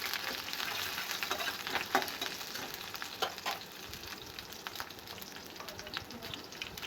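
Onion and green chilli frying in oil in a kadai for veg noodles, a steady crackling sizzle with scattered pops and occasional stirring scrapes, close and fairly quiet throughout.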